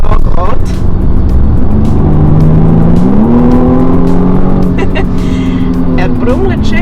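A BMW M235i xDrive Gran Coupé engine rumbles deep and loud, revving upward partway through and settling into a steady growl, with faint clicks on top.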